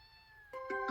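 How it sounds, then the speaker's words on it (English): A ginger kitten meows twice in quick succession, high, thin and close, after a brief stretch of a held musical tone. "Or a ginger kitten that looked like a baby tiger?"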